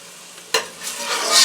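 Shrimp fry in a pan with a spatula scraping through them, a sharp clank then rising sizzle and stirring, close and without talk.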